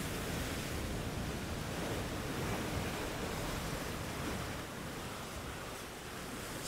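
Sea waves breaking on coastal rocks, a dense steady broadband wash of surf with no distinct individual crashes, close and loud, with wind noise mixed in and no voices.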